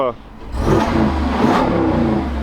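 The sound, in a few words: Jeep V8 exhaust revving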